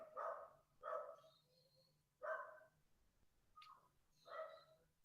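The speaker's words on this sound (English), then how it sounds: "the dog is barking" A dog barks repeatedly indoors, a series of moderately loud, spaced barks over a faint low background hum, with no talking.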